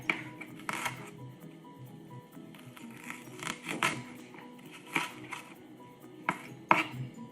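A knife chops vegetables on a cutting board in a kitchen, irregular sharp taps in small bursts, close and fairly quiet, with no talking.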